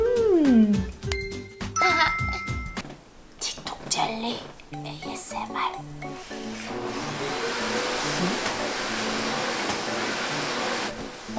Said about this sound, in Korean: 왜 지금 청소기 돌려?